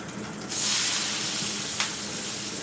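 A piping hot cast iron pan gives off a sudden loud burst of steam hiss after being rinsed with water, holding steady and broad for a couple of seconds with a brief extra spurt, no talking.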